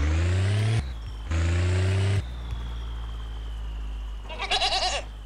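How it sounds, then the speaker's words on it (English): A ghost goat in a video game bleats in two long, loud, quavering cries, followed by a shorter, fainter bleat over a steady low engine-like rumble. "Where is that goat noise coming from?"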